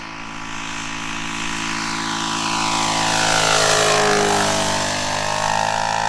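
A 1/4 scale Sopwith Pup model plane, 2 m span, flying with its engine at low throttle, a steady propeller drone that swells and shifts pitch as it passes overhead, loud and alone.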